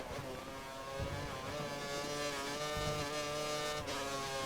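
A Formula One car's engine screams under throttle in the F1 2013 racing game at Bahrain, a steady high-pitched whine wavering with throttle changes, loud and continuous with no talk.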